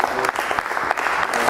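Audience applause at a cricket show, a dense steady patter of many hands clapping close by, with a voice faintly mixed underneath throughout.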